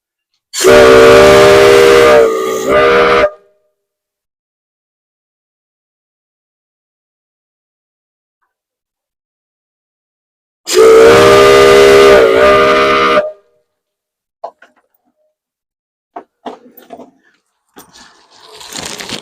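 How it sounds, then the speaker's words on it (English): Two long, loud steam locomotive whistle blasts echo through a valley on the Cripple Creek & Victor narrow gauge railway, several seconds apart, each a rich harmonic tone cut off sharply, followed by faint scattered sounds in the quiet. "That whistle can actually be heard for about 10 miles up and down this valley."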